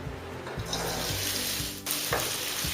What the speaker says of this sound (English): I am going to fry these until these are light golden